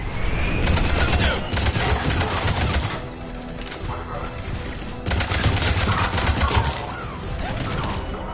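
Bursts of rapid gunfire ring out at a checkpoint in the video game Mass Effect 3, dense volleys with a brief lull in the middle before the shooting resumes loudly.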